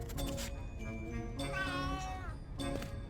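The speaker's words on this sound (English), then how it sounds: "Look, it's a cat." A cat in the video game A Vampyre Story meows in a few drawn-out, rising and falling cries, close and fairly loud over a steady game background, with a brief pause between calls.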